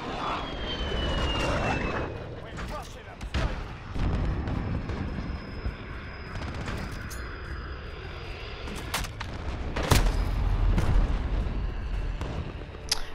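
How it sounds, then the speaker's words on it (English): A friendly VTOL aircraft in a shooter video game roars overhead, a loud engine drone with bursts of gunfire and explosion-like blasts mixed in, swelling strongly near the end of the pass. "Friendly VTOL on station for Overwatch."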